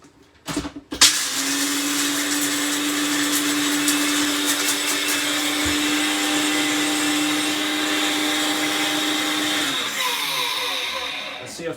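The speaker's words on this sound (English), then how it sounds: "1/4 cup of almonds, and we're just going to blitz these until they become a fine dust." A blender blitzes a quarter cup of almonds into fine dust, a loud steady motor whir that starts abruptly after a few knocks and runs continuously for several seconds before winding down.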